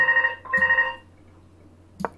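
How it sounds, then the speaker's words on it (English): A telephone rings indoors with two bright electronic trills in quick succession, then a short knock or clunk as the handset is handled, otherwise quiet. "Oops, that's the phone."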